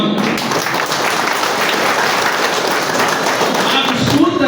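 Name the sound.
audience applause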